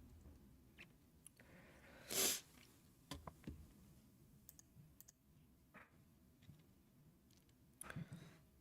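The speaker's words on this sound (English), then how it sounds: "My sneezing is bad." One sharp, loud sneeze bursts out near the microphone, surrounded by scattered soft clicks and small taps in a quiet room.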